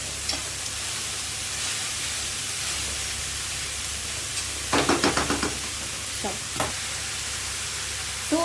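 Momo filling fries in a pan with a soft, steady sizzle and hiss, then a burst of stirring scrapes and clatter near the end; no voices are heard.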